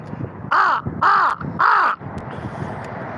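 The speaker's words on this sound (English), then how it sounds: "there goes one of my crow buddies" Crows caw three times in a loud, evenly spaced series of harsh calls close by, followed by quieter outdoor background noise with no talking.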